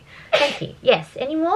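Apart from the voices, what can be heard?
sneeze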